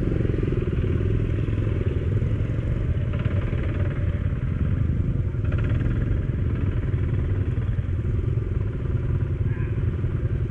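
Motorcycle engine running steadily and close, low rumble with some clatter, on a muddy trail; voices talk faintly over it throughout.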